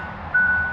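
A 2020 Hyundai Sonata Limited gives a single steady, close reverse-gear warning beep that starts suddenly and holds to the end.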